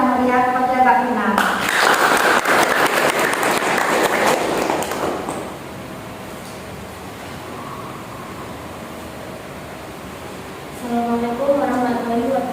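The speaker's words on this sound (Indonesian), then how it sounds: "Dan berikan tepuk tangan yang meriah kepada Kak Vina." Audience applause at a youth reproductive health education session, a dense burst of clapping swelling for several seconds before fading under a quieter room, with voices speaking at the start and end.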